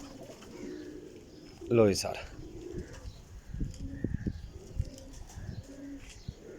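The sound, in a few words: Rampuri cross pigeons cooing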